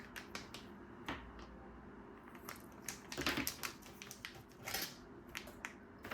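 Scissors snip the tip of a plastic piping bag fitted with a 1M star tip for cupcake icing, making a run of close, crisp clicks and crinkling plastic rustles in a quiet room.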